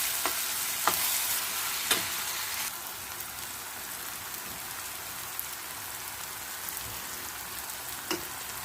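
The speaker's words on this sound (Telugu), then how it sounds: "ఇప్పుడు అన్నీ ఒకసారి బాగా మిక్స్ చేసుకుందాం." Egg fried rice with tomato and mint being stir-fried in a pan: steady close sizzling throughout, with a few sharp scraping strokes of the spatula early on and another near the end, no talk.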